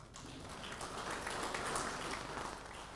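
Welcoming applause from an audience at an exhibition opening, a soft, fairly distant patter of many hands clapping that swells slightly and holds steady for a few seconds.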